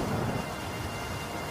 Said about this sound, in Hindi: बारिश होने लग जाती है।